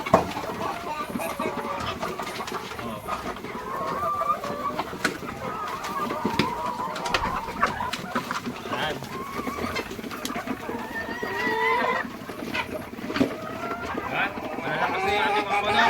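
Flock of chickens pecking and feeding, including birds recovering on antibiotics, with soft overlapping clucks and calls throughout, a steady busy backdrop and some nearby talking.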